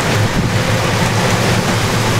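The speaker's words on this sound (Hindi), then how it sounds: "मगर देखिए अब कितनी ज़्यादा बारिश हो रही है।" Heavy rain pours steadily on a Treo electric auto-rickshaw during a downpour, with the windshield wiper running, making a dense, loud, unbroken roar of drumming water.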